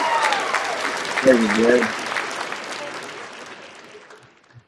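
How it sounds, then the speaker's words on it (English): A studio audience claps for Jay at a boxing talk show, a loud burst of applause that swells and then tapers off toward silence, with someone speaking briefly over it at the start. "Let's give Jay a round of applause."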